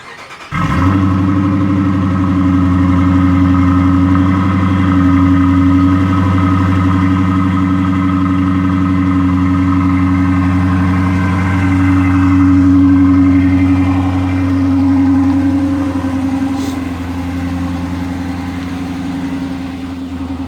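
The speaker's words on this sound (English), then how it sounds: "I want to show you guys what a cold start is with a muffler delete and the Charger RT" Dodge Charger RT with a muffler delete firing up on a cold start, a loud, deep, steady exhaust rumble that swells briefly mid-way, then settles into a slightly quieter idle near the end.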